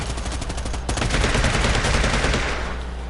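Rapid gunfire from the Predator: Hunting Grounds video game, with loud, dense automatic bursts that run continuously, swell in the middle and ease slightly toward the end, with no talk over them.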